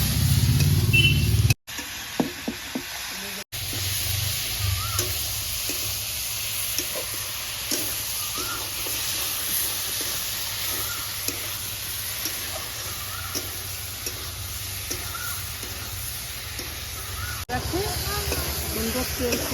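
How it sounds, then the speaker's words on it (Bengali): Chilies and dried prawns frying together in oil in a pan, a continuous crackling sizzle with intermittent scraping stirs and a couple of brief abrupt cuts, close by. "লঙ্কাগুলো দিচ্ছি, মাছগুলো দিয়ে দিচ্ছি, দিয়ে একসঙ্গে কষিয়ে নিচ্ছি।"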